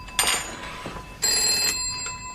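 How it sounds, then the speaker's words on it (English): An old-fashioned telephone bell rings indoors in a 1970 British TV drama, sounding in two loud, close bursts with a brief pause between them. "That's your phone."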